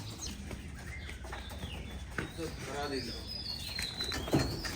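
Pigeons at a giriboj pigeon farm, with soft cooing and occasional wing flaps amid a busy, steady background, a few brief chirps and a louder flutter near the end.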